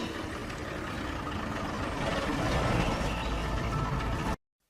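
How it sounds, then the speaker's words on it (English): A heavy lorry engine rumbles steadily, growing slightly louder as it approaches up a lane, before cutting off abruptly. "Listen, I can hear a noise. It's a lorry. It's coming up the lane to the cottage."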